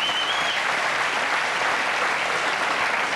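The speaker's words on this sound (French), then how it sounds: "Merci de l'applaudir." Dense, steady studio audience applause at a French television anniversary show, welcoming a performer, continuous clapping with no break across the whole stretch.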